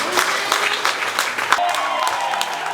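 A church congregation claps for Jesus in dense, lively applause, with a few voices and low sustained tones underneath the clapping throughout.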